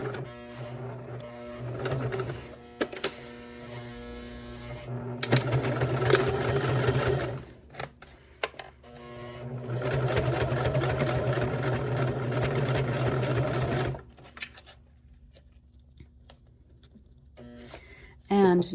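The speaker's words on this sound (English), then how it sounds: "And we're just going to sew a scant 1/4 inch from the edge." Sewing machine stitching a seam a scant quarter inch from the edge of a cork clutch bag, running in several close, rapid bursts with pauses, a voice speaking between runs.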